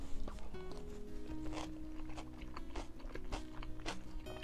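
Crunchy chewing of gray mullet sashimi bibimbap mixed with raw onion and gochujang, close-up bites and crisp crunches repeating through the clip over faint background music.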